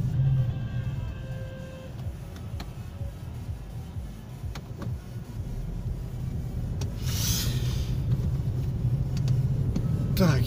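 A car driving along Krylova Street in Simferopol, Crimea, heard from inside as a steady low road and engine rumble with occasional rattles and a brief louder whoosh near the end, continuous throughout.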